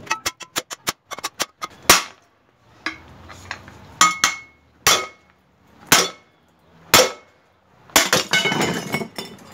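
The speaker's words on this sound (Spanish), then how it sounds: "Vamos a darle unos pequeños golpes más." Light hammer taps on a homemade metal PCP air tank rated for 2,500 psi, a fast run of sharp metallic clinks at first, then single ringing blows spaced about a second apart, close and loud.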